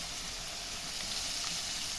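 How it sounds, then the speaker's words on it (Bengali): Potato pieces frying in oil in a pan, a soft, steady hiss and sizzle that runs evenly and quietly throughout. "আলুগুলো লাল লাল করে ভেজে নেব"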